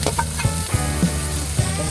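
A hotdog sizzles in a pan alongside onions, with steady frying hiss and a few soft scraping stirs and light clinks recurring at irregular intervals, fairly quiet and close.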